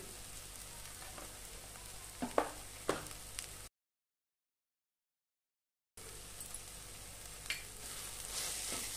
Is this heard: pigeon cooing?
no